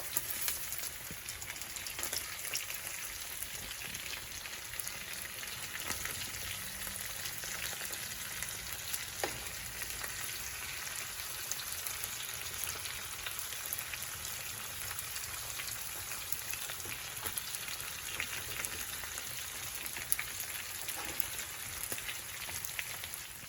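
King fish frying in a pan for Kerala-style fish moli, a steady close crackling sizzle of hot oil that continues evenly throughout with no talking.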